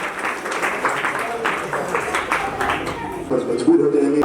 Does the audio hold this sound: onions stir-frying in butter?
no